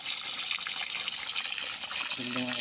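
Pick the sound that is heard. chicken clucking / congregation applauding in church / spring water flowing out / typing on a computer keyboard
spring water flowing out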